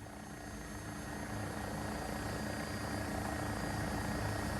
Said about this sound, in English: Beautiful helicopter, easy to fly with all that stabilization.